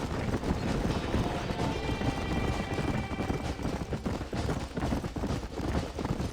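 Horses galloping in the Red Dead Redemption video game, a steady drumming of hooves that runs the whole time with no gaps, close and fairly loud, with faint game sounds mixed in behind.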